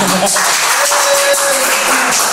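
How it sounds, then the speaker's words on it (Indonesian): A brief applause sound effect plays as a background track during an Indonesian talk segment, a short dense burst of clapping with other sounds mixed in. "Coba Pak, tes kok, backsoundnya tepuk tangan."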